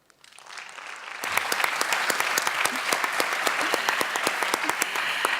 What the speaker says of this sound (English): please, once again, a big warm round of applause.